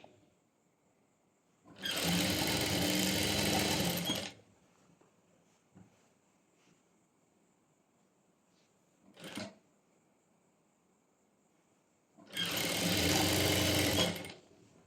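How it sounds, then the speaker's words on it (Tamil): Two separate bursts of a sewing machine top-stitching along the edge of pant fabric, each lasting a couple of seconds, with a faint clunk between them in a quiet room. "நல்ல எட்ஜில் டாப் ஸ்டிச் போடுவோம் நம்ம எட்ஜில்"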